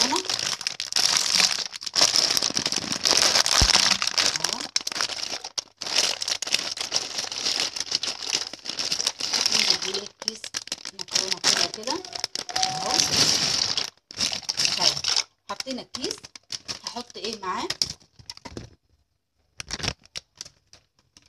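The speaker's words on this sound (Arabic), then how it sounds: "هنزل بيه كيس المكرونه" Plastic bag of pasta crinkling and rustling up close, in busy bursts with short pauses, next to a pot of boiling water, while a person talks throughout.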